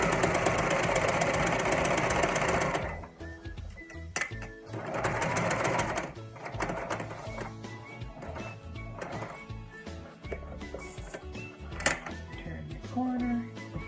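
A sewing machine runs fast and steady, stitching along the edge of a fabric placemat, then stops and restarts in shorter bursts with quiet gaps and small clicks between runs.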